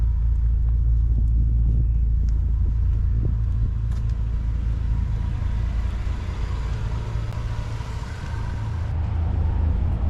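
A car driven on the road, a steady low engine and road rumble that stays loud and close throughout, with no talking.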